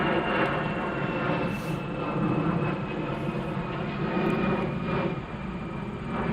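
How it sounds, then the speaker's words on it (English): Aircraft passing overhead outdoors, a steady loud engine roar filling the whole stretch with a slow swell, no talk over it. "By the way, you guys will hear airplanes as usual."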